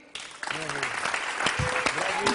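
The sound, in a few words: audience applause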